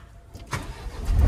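A Tata Ultra T.18 truck's engine cranks and catches, rising to a low rumbling idle close at hand, brief and with no voices.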